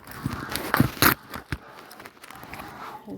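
Bay leaf, dry red chilli, cinnamon and cloves dropped into hot oil for tempering, giving a few sharp crackles and pops in quick bursts, then a quieter sizzle fading away.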